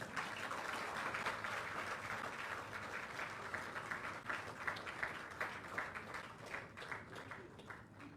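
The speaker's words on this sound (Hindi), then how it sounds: "आप सबसे निवेदन करूंगा कि जोरदार तालियां आप सबकी तरफ से हो" An audience at a formal ceremony in Panchkula claps in a long, continuous round of applause, heard faintly and from a distance, with individual claps standing out near the end.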